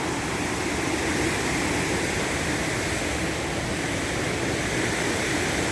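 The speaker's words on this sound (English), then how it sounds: "Wow, the water's really moving here" Fast-moving river water on Forbidden Plateau rushes in a steady, loud broadband roar that fills the whole stretch without pause, close by and with no voices over it.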